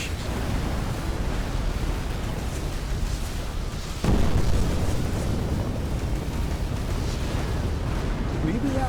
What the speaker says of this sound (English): my nuclear warhead, that big explosion we just had